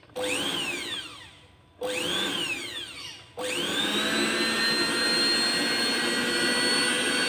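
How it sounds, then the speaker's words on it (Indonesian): A small 200-watt blender running on a homemade inverter whirs up to speed in two short bursts, then runs steadily at a high, buzzing whine. "Kita nyalakan blender."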